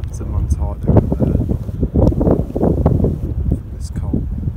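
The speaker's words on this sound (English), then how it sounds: "It's been super windy." Strong gusty wind on a high mountain route in the Pyrenees, near Montarda, buffets the microphone with low rumbling roar throughout, rising and falling; no clear talk over it.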